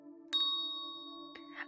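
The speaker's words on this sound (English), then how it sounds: "Even thought he announced his arrival by ringing a bell." A priest's bell rings at night: one clear struck ding with a long sustained ring, followed by a softer second strike, heard alone and fairly faint.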